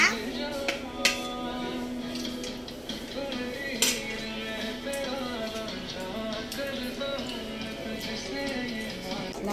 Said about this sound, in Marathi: चमच्याने खाता डोसा.